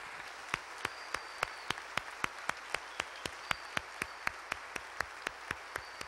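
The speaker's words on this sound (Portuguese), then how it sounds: "Vamos aplaudir Jesus por isso, queridos?" A church congregation claps in unison, a regular beat of sharp rhythmic handclaps, faint and evenly spaced throughout, with no talking.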